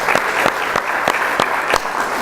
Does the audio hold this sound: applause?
yes